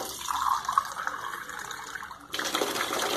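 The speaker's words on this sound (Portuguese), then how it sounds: "E agora você pode pôr dois ou três de água." Water from a glass poured into a pan of tilapia escabeche with apple cider vinegar, a steady close splashing stream that pauses briefly and resumes louder near the end.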